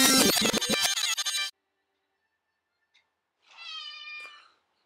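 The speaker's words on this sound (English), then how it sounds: "That's a cat." A cat meows once, a short, clear, nasal call heard close after a burst of loud music cuts off, followed by quiet.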